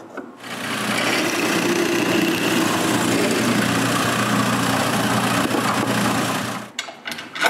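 A drill bores through a wooden bandsaw rip fence to mount it on T-track, a steady continuous whir running for several seconds before cutting off, followed by a few light clicks.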